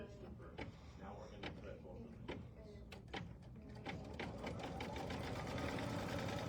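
Sewing machine stitching a line along quilt fabric, a rapid mechanical chatter that builds and grows steadier toward the end, with a few sharp clicks and faint room noise.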